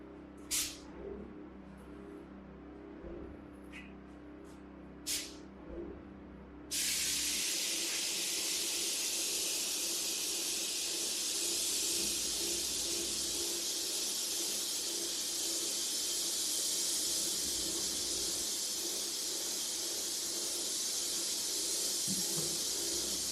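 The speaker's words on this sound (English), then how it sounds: "continue spraying this block filler on the cinder block" A loud, steady hiss of a paint sprayer applying block filler to cinder block starts abruptly after a few quiet seconds of faint clatter and runs continuously to the end.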